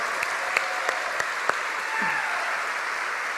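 A church congregation applauds the Lord during a sermon, a soft continuous patter of clapping with a few sharper claps standing out, steady and moderately distant throughout.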